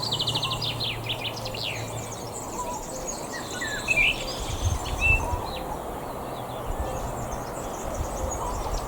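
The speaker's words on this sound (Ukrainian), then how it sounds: "Пташечки співають." Small birds chirp and trill outdoors near an old apple tree, quick high twittering phrases scattered over steady insect buzz, moderately close, with occasional low rumbles and no talk.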